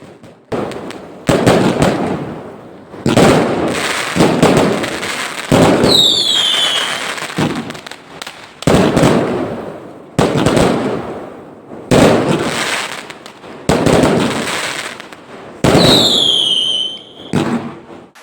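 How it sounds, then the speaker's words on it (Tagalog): Chinese New Year fireworks in China boom and crackle in repeated loud bursts, some launched with rising whistles, echoing one after another at close range. "Fireworks everywhere, red and gold filling the night sky."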